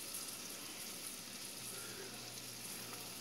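Shredded beef, sausage and bacon sizzling in a pan, a soft steady frying hiss with a faint low hum underneath and no voices.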